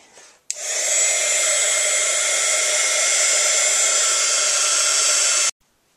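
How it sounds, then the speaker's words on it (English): An embossing heat gun melting embossing powder on a handmade card, switching on with a click into a loud, steady blowing roar for about five seconds before cutting off abruptly. "I'll need to use my embossing heat gun here for a couple seconds to get it melted."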